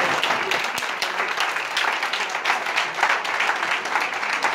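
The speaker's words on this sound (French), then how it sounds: "On peut applaudir maintenant." Audience applause after a French linguistic debate contest, a dense continuous wash of many hands clapping at steady loudness throughout, with no voices over it.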